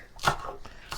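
A knife chops soaked green chillies into small pieces on a board, giving a couple of short, crisp cuts close by within a quiet second.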